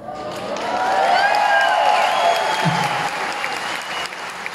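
An audience at a concert in Ibagué, Colombia, applauds the drummer, the clapping swelling to a full, sustained roar and then easing slightly while still going near the end.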